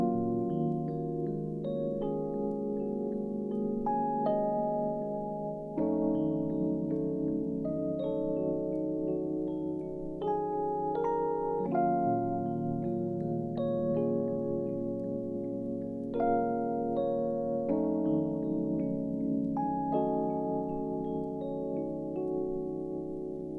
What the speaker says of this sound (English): So I just used this electric piano that sounds like this.